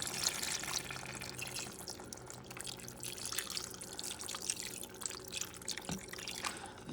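Broth being poured into a pot of braised beef neck bone stew gives a soft, continuous splashing trickle with faint drips, close and fairly quiet, with no talking.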